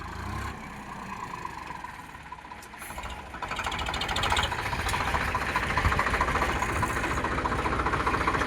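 Sonalika tractor engine running while reversing to hook up a plough in a field, a steady rumbling idle that swells louder after a few seconds and keeps chugging to the end.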